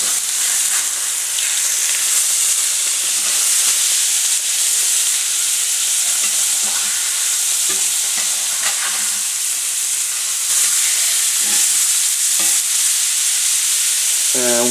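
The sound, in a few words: blackened catfish fillets frying in a pan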